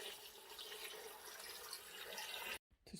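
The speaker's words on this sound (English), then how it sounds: "I'm going to add the salted water, of course, with salt completely dissolved in tepid filtered water." Salted water poured into a jar of packed gherkins gives a steady, close, hissing gurgle of liquid that runs continuously, then cuts off abruptly near the end.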